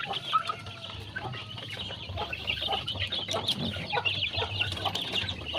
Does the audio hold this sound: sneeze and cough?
no